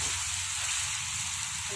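Potatoes with masala frying in a pan for aloo methi sabzi, giving a steady, close sizzle that holds evenly throughout without any voices.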